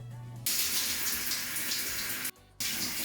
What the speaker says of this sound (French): It's time to take a shower, guys!